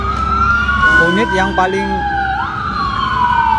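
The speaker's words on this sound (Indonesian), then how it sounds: "di luar kita bisa melihat itu ada mobil pemadam kebakaran" A fire truck siren wails and sweeps in pitch outside a residential street in Tempe, Arizona, loud and close with traffic rumble beneath, while someone speaks over it.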